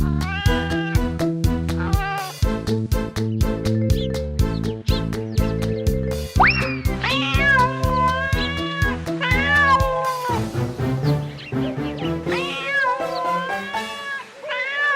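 A cat meows repeatedly in clear, close, pitched cries, mixed over a rhythmic musical backing, with some drawn-out wailing calls toward the end.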